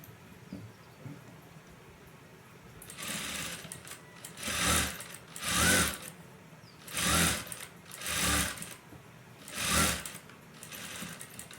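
A sewing machine stitching lace onto a V-neck blouse runs in five separate bursts of loud, close whirring, each with a short pause before the next. No one speaks.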